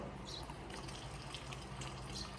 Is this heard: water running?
yes